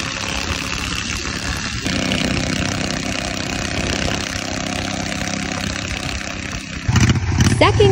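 Riding lawnmower engine running steadily in fifth gear while towing a converted boat trailer, a loud continuous mechanical drone that rises in intensity toward the end.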